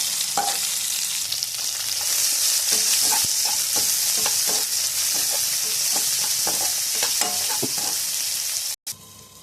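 Onion, dried red chillies and curry leaves fry in a hot pan with a constant close sizzle, punctuated by repeated light clinks and scrapes of a stirring spoon; a brief dropout near the end, no talking.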